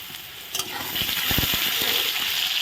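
Chopped onion hits hot oil in a kadai and sizzles, with a few low stirring knocks over a steady, bright frying hiss that stays loud to the end.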